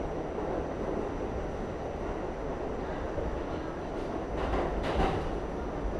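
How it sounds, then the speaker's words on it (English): An NYC subway train on a morning rush-hour run to Midtown Manhattan slows into a station, a steady loud rumble of wheels and car noise with a faint hiss and a brief swell of rattling near the end. "red train slowing up, which means that I should be approaching the station soon"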